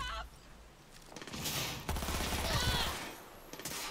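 Gunfire in Cyberpunk 2077 on a favela-like city street breaks out in bursts of rapid shots, a quieter stretch followed by louder overlapping volleys with no talk.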